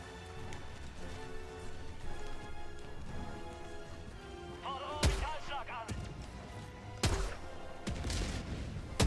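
Gunshots in the Helldivers 2 video game destroying a mortar: several sharp, loud bangs spread over the battle, mixed with music and other game noise.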